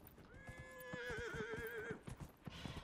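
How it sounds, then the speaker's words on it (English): A horse in Dragon Age: Inquisition neighs with a long, wavering whinny, over a steady rhythm of hooves clip-clopping underneath. "Don't neigh at me."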